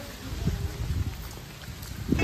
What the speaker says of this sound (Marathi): पाऊस आला. नाईस नाईस, मस्त पाऊस.